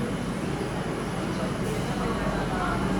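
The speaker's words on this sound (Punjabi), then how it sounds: "ਇੱਧਰ ਆਪਣੀ ਟ੍ਰੇਨ ਆ ਗਈ" A Kolkata metro train pulls into the station with a loud, steady low rumble and roar that fills the platform without a break.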